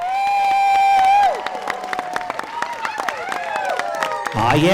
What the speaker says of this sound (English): Let's give the parents of the bride another nice round of applause